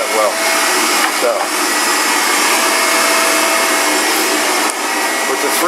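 A brand new 7 horsepower three-phase motor running on a Delta Rockwell 11x26 variable speed metal lathe, a loud, steady broadband whir and hum that holds constant throughout, close up.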